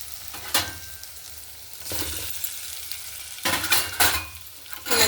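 Boiled potatoes are tipped into a frying pan with green chillies and a pinch of chilli powder and stirred for a hotel-style puri curry. Several close, scraping bursts of stirring rise over a low, steady sizzle, with no talking.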